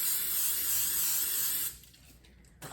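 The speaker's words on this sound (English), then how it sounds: "And then we'll need some cooking spray, and then we're going to spray the" Cooking spray hisses from a can onto bread pans in a home kitchen, one steady close spray lasting about a second and a half, then stopping, with a faint knock just after.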